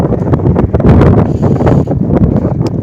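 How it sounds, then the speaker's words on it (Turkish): Steady, gentle evening wind under grey clouds before rain buffets the microphone with a constant low rumble and rustle, with faint brief sounds underneath. "Bir rüzgar var."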